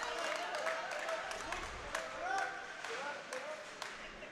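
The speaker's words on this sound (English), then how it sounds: "She's got some people cheering for her in the back." Spectators at a women's bowling tournament final clap and cheer in scattered bursts, with claps rising and falling behind a commentator speaking steadily over the crowd noise.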